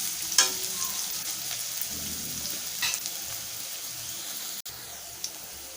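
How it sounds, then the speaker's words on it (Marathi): Onion sautéing in a pan for a Malvani-style elephant yam curry, a steady close sizzle with occasional stirring scrapes and clicks. "परतून घेऊया। कांदा आपल्याला थोडासा नरम होऊन द्यायचा आहे।"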